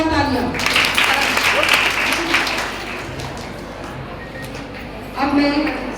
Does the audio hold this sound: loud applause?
yes